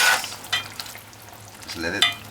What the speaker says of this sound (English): Just let it simmer like that.